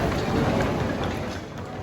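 Steady rain falls at night outside Orlando International Airport, a constant, even wash of noise with no voices.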